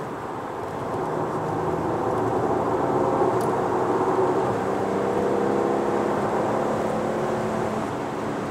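Maserati Quattroporte driving and accelerating, a steady broadband engine and road drone with low rumbling tones that rise slightly, sustained and close throughout without talk.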